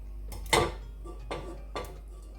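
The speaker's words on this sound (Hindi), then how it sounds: "अब एक पैन लेंगे, इसमें ये टमाटर डाल देंगे।" A metal pan set down in a home kitchen while chopped tomatoes go into it, making a sharp clank followed by two softer knocks and clatters, close and fairly quiet with no talk.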